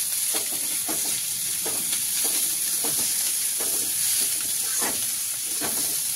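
Chopped onion fries with winter vegetables in a pan for pasta, a steady bright sizzle with rhythmic scraping stirs every half second or so, close and continuous.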